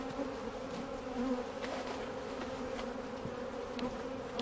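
Honey bees buzzing steadily around an opened hive during queen grafting work, a continuous close droning hum with no speech.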